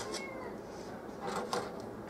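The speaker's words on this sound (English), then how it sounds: "The cat, my cat's meowing." A pet cat meows in a home kitchen during a barbecue wing cooking session, giving a couple of short, faint cries over a low background hiss.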